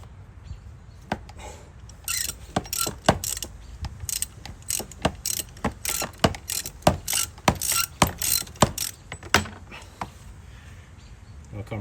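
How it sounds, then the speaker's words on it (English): A special tool working the clutch nut on a Chinese 125cc engine gives repeated sharp metallic ratcheting clicks in quick irregular bursts, close and fairly loud. "you're going to take that special tool. You line it up in there with the nut."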